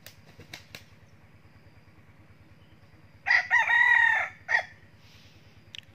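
A young rooster crows once, loud and close, a long strained call after a few soft clucks and flutters, over a low continuous motor-like drone.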